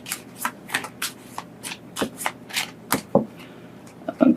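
Tarot cards are shuffled by hand in a run of quick riffling flutters and soft slaps, close and clear, with a faint voice near the end.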